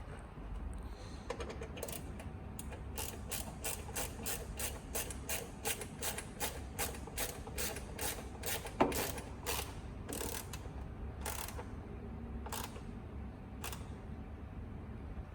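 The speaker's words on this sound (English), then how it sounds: "Okay, once you have it in place, we'll start to tighten it." Mopar grab handle bolts on a Jeep Wrangler JL being tightened by hand with a ratchet, a rapid run of crisp, regular clicks close by, pausing briefly and then slowing to a few spaced clicks, with no talking.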